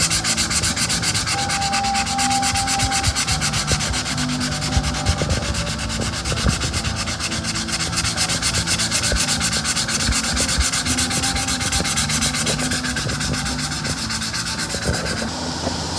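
Sandpaper of 300 to 320 grit scuffs over fresh paint and cracked bondo on a car body, a continuous close rasping with steady back-and-forth strokes and no talking.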